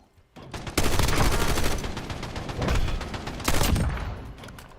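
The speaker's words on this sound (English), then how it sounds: "I'm taking fire." Bursts of automatic gunfire from a Call of Duty Warzone match, loud and close, with a heavy opening volley, a steady rattling stretch and a second burst near the end.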